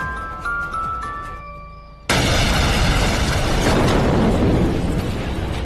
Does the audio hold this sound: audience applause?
no